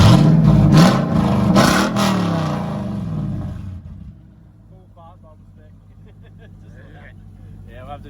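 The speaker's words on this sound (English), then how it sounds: "Give her a rev, son. Give her a rev." A lifted Toyota Tundra 1794 Texas Limited dual-cab 4x4 truck with loud mufflers revs hard close by for about two seconds, then settles to a low idle while people talk nearby.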